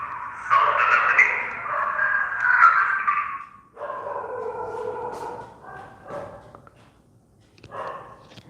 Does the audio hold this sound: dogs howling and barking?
yes